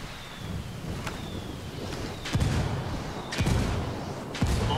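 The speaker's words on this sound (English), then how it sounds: "Oh, look, the explosion." Indirect-fire artillery in Ghost Recon Wildlands lands as several dull, distant booming impacts over constant wind noise and outdoor rumble.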